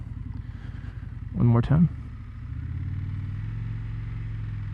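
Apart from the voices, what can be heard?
Indian Scout motorcycle making a U-turn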